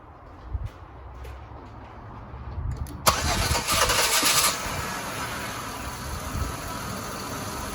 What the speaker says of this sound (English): All right, let me turn the vehicle on.